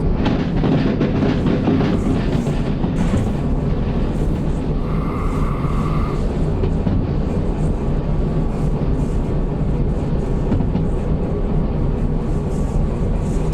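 A freight train in the video game Derail Valley rolls with a constant heavy rumble and faint clickety-clack as its dynamic brake is maxed out and a little train brake is applied, with a brief squeal partway through.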